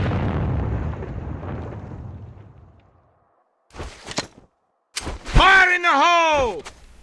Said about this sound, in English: Nades being thrown around, trying to get some picks.